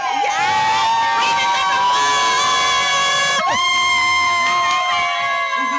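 Football fans in a bar before a Thursday Night Football kickoff, a close, loud burst of cheering and whooping, with high excited shouts and voices across the whole short stretch.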